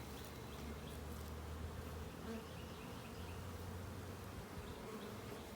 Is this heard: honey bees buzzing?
yes